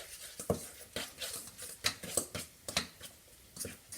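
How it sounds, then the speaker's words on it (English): A spoon stirring egg into a salmon patty mix in a bowl, soft irregular scrapes and taps in quick succession, close and quiet. "Now I'm going to take me an egg and break in there. Stir that up good."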